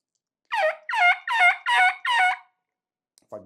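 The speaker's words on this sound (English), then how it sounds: "get you more diversity in your turkey sounds" Five raspy turkey yelps from a mouth reed call played with gritted teeth come in an even, evenly spaced series, close and loud, followed by a brief faint sound.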